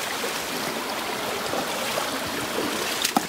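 A sandy, tree-lined Swiss stream flows in a steady, continuous rush close by, with a brief splash near the end.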